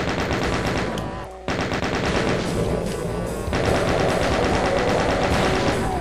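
Sustained rapid machine gun fire from chaingunners in the video game Doom 2, loud and continuous with a brief break, no talk.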